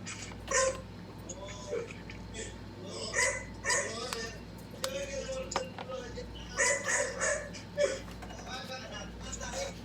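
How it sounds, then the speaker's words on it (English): A dog barks repeatedly in short bursts, a few sharp yaps spread across the stretch, with a person talking over it in a room. "Daisy hears someone's dog barking."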